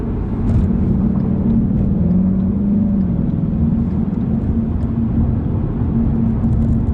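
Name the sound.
2016 Ford Mustang GT engine revving as the gas is released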